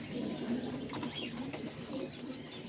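About six pigeons sit on eggs in a cage, giving soft, steady low cooing with faint shuffling and wing rustles throughout, close and continuous.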